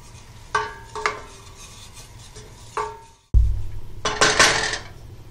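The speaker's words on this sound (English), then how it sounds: "Once the butter is melted, we will add 2 tablespoons of flour, making sure to mix it together." A metal whisk works flour into melted butter in a pan for lobster mac and cheese. Sharp clinks and taps sound against the pan, then a dull thud, followed by brisk, scratchy whisking with a soft sizzle.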